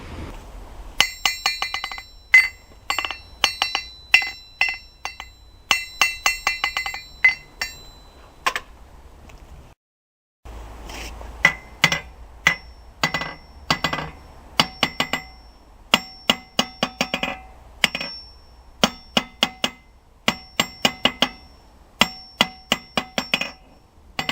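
A hammer strikes a steel anvil that is clamped down to a heavy mass, producing dozens of sharp metallic clinks in quick bursts with a brief pause midway; each hit is short, with only a little ringing.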